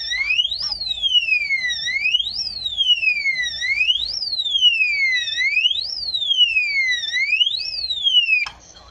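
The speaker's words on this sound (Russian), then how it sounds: "Вот, включился сирена." A loud electronic safe alarm siren wails up and down in repeating sweeps, close and piercing, then abruptly stops.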